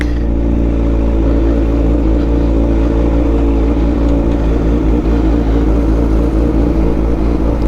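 Road traffic of cars and motorcycles in the Philippines heard from a sportsbike, a steady loud low engine rumble with droning tones held throughout.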